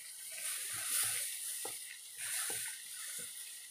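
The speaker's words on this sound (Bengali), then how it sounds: "তো এখন আমি জল দিচ্ছি আর নাড়ছি" Water poured into tusha halwa cooking in a pan and stirred in, giving a soft watery hiss with scattered scraping strokes that rise and fall close by.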